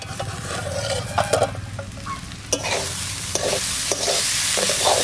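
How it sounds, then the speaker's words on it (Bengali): Onions frying in a pan for a home-cooked Bengali meal of cabbage with bhetki fish-head moong dal, a steady close sizzle broken by several sharp scraping stirs of a spatula. "মনে হচ্ছে পেঁয়াজ ভাজা হচ্ছে"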